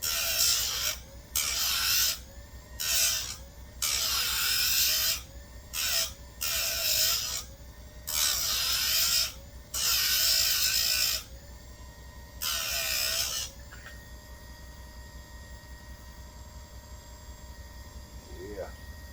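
A grinder sharpening a Husqvarna 357XP chainsaw chain, a series of short bright grinding bursts in steady rhythm, close up over a constant motor hum, which keeps running alone after the passes stop.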